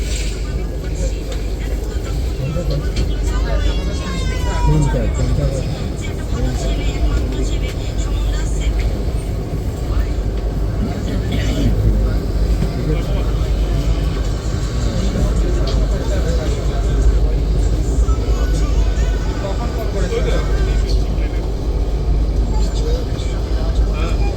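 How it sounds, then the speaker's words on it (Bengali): The ICF-coach Black Diamond Express (22388, Dhanbad to Howrah) pulls out of Durgapur station. A loud, steady rumble of rolling wheels and carriage noise runs throughout, with faint voices blending into the din. "দুর্গাপুর থেকে ট্রেন ছাড়লো এখন"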